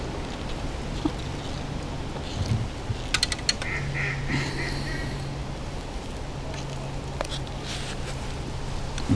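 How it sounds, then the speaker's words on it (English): A duck at the waterside of Lymm Dam gives a few short bursts of quacks, moderately faint against steady outdoor background noise, with a further quack a few seconds later. "Duck seems to be laughing at me. Did you hear it then? Quack, quack, quack, quack."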